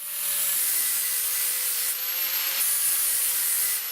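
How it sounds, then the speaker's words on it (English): Angle grinder cleaning welds flat on a steel structure for a walnut dressoir, heard as a continuous abrasive rasp with a high whine that shifts pitch midway, close and alone. "Cleaning off with the grinder, making it all flat."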